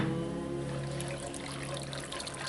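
A cornstarch and water thickener trickles into sweet and sour sauce in a cast iron pan, a soft close dribble over a steady low hum from the stove.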